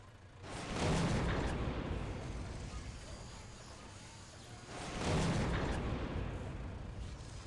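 Artillery turrets firing in the game Warhammer 40K: Dawn of War, two heavy booming blasts several seconds apart, each followed by a long rumbling roll, with faint talk in the background.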